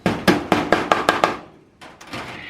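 A hammer pounds a staple into wire on a double-decker rabbit hutch, seven quick sharp blows in a steady rhythm, close and loud, followed by a few softer taps.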